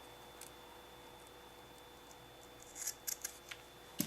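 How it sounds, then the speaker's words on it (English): A few quiet, crisp scissor snips close by, clustered near the end after a stretch of near silence. "I get my scissors"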